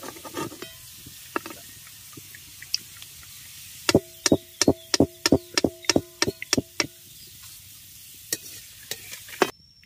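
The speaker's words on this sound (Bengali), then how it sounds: "একইভাবে আবার আলু ভাজাগুলো এর মধ্যে দিয়ে দিচ্ছি।" Shredded potato sticks fry in hot oil with a faint steady sizzle, while a utensil strikes the pan in a quick run of sharp metallic knocks and scrapes, close by with no talk.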